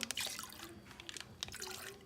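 Live yeast, refrigerated until a few hours earlier, poured into a vessel while brewing a Belgian Tripel: a close liquid trickle and dripping splash running through, fairly quiet throughout.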